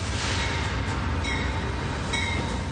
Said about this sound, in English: By train,